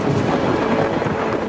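A massive thunderstorm roars as a loud, steady wash of rumbling, rain-like noise that fills the whole short stretch without pause.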